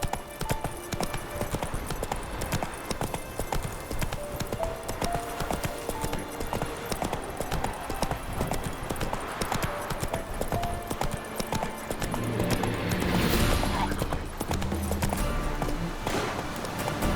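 Horse hooves galloping in The Witcher 3, a steady, rapid clip-clop rhythm running throughout over a dense game soundscape, with a louder burst of activity near the end.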